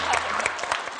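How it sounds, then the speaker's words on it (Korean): Studio audience clapping on a Korean quiz show, Star Golden Bell, with SHINee and Super Junior as guests; a brisk, close burst of claps with distinct sharp hits and faint voices mixed in. "이게 좋은 게 아닌데 박수 치고 있네요"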